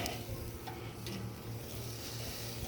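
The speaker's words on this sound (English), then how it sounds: "Yeah, hear that sizzle? There's a lot more sizzle here." Brats sizzle on a charcoal grill at the searing side of a Slow N Sear setup, a soft continuous crackle and hiss at moderate distance with faint scraping.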